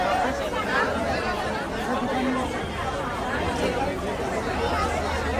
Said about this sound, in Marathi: गर्दी आहे गर्दी आहे